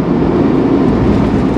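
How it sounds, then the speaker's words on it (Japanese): A freight train runs alongside a bridge as a low, steady rumble of rolling wheels and engine, heard from inside a small Suzuki Every DA17V van crossing that bridge, with no talk over it. "なんか列車が走ってる、貨物列車が走ってるんですよ"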